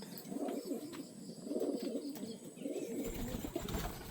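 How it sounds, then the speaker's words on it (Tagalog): Pigeons coo in soft, low, repeated rolling phrases, close by and steady across the whole stretch with no talk, a faint background hiss underneath. "Ito nga pala yung kalapate mga kap."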